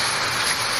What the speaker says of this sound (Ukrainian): Це звук тихого літнього дощу.